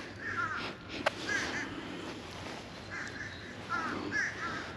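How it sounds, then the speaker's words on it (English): Crows caw outdoors near the water during a kayak outing, with several faint, harsh calls in loose clusters spread across a quiet background and a sharp click partway through. "A lot of crows around lately."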